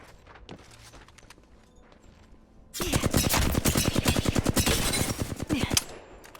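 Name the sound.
gunfire in the Apex Legends video game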